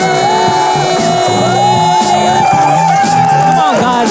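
A live poetry event audience whooping, shouting and cheering for the next poet, loud and close, with crowd voices layered over each other throughout.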